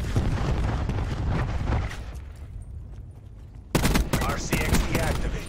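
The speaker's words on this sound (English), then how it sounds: "Throwing cluster grenade." Cluster grenade blasts in the shooter game Black Ops 4, a rolling string of loud booming detonations and crackling bursts, easing briefly before another heavy volley of explosions hits near and loud.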